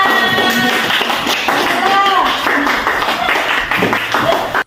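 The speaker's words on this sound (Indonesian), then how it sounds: "Tepuk tangan buat kita semua." A classroom group claps hands in a brief, scattered burst. An adult voice and children's voices talk over it throughout, and the clapping stays partly masked under the chatter.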